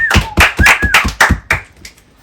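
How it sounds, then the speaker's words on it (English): A handful of sharp, separate hand claps at a podcast recording, close and loud, spaced unevenly over about two seconds before trailing off. "Everyone, can we get a little applause for Lil Nader?"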